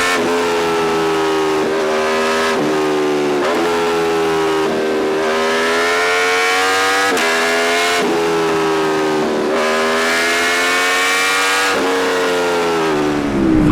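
Aprilia Tuono V4 1100 Factory motorcycle with a quickshifter, accelerating hard and close through a rapid series of upshifts, its V4 roar climbing in pitch and dropping briefly at each gear change.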